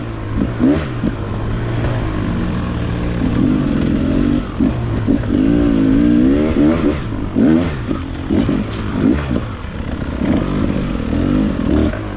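A Beta 300RR two-stroke dirt bike engine revs and drops repeatedly during a ride, a loud close rasping drone rising and falling in bursts with clatter from the ride.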